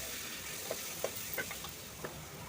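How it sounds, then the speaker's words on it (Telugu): Beans with coriander and mint leaves fry in a pan with a soft, steady sizzle, marked by a few quiet clicks of stirring. "మంచిగా ఫ్రై చేద్దాం ఆకు ఒకటి కొత్తిమీర పుదీనా కొద్దిగా బీనీస్ వేసుకుందాం"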